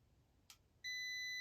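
A multimeter emits a sharp, steady electronic beep during continuity testing on a CRT monitor being converted for arcade use, preceded by a faint click in a quiet room.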